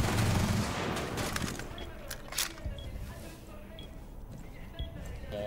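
Gunfire in the tactical shooter game Rainbow Six Siege: a scattered series of sharp, muffled shots and impacts over a dense, rumbling in-game background, with several quick bursts early on and isolated louder cracks later.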